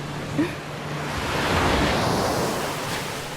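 Ocean surf washing continuously onto a secluded little beach in St. Lucia, a steady broad roar that swells slightly in the middle and stays even throughout, with wind noise on the microphone and no talking.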